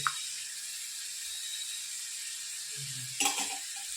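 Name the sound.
fenugreek seeds sizzling in hot oil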